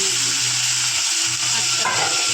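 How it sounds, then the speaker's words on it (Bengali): A fish head fries in hot oil in a pan, giving a steady loud close sizzle and crackle with a low hum underneath, continuous throughout. "আর মাছের মাথাটা ভেজে নিই"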